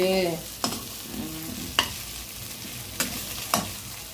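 Fish frying in mustard oil, a steady close sizzle broken by a few sharp clinks and scrapes of a utensil stirring in the pan, with no voices.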